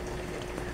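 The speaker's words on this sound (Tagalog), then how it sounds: "ay kumukulo maigi" A pot of water with guava and onion bubbling at a steady rolling boil for milkfish sinigang, a soft continuous low churning and burbling heard close and alone.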